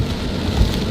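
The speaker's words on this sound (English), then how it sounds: "right now it's just rain" Steady rain falls during a thunderstorm with flash flooding, a dense even patter close by with no voices.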